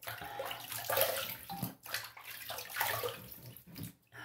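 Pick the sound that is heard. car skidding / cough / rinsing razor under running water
rinsing razor under running water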